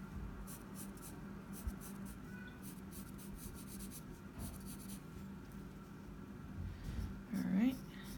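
A pencil goes back over drawn lines on paper in a stretch of soft, close scratchy strokes, faint and intermittent, with a voice talking quietly at times.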